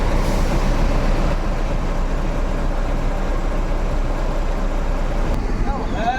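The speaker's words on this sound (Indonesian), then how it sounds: "Berbarengan bus-bus tujuan Ranah Minang berbarengan keluarnya" Several buses bound for Ranah Minang pull out together, a continuous low engine rumble close by with traffic noise throughout and a brief air-brake hiss near the end.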